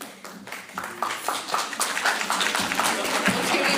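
Audience applause at a religious lecture, a dense wash of many hands clapping that swells and stays steady throughout, fairly loud and close, with no talking over it.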